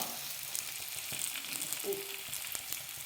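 Cucumber roti frying on a lightly oiled griddle over a medium flame, giving a steady, soft sizzle with small crackles and one brief higher squeak, with no talking.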